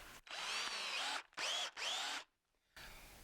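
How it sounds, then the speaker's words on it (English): A power drill with a long 7/16-inch brad point bit whines through wood in three close bursts, then cuts out before a softer, shorter run starts up. "Now we're going to be drilling that just in a minute. 7/16 bit."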